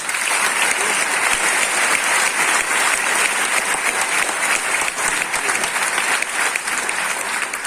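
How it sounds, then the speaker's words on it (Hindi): An audience applauds in tribute to martyrs, a loud, sustained wash of clapping from many hands that holds steady throughout without pause. "आप चाहें तो हमारे शहीदों के लिए, हमारे बलिदानियों के लिए तालियां बजा सकते हैं"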